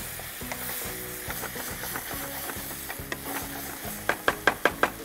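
Ingredients sauté in a hot pan for Pallipalayam chicken with steady stirring, rhythmic scraping strokes over a sizzling hiss, ending in a run of sharp, loud clinks of the spoon against the pan.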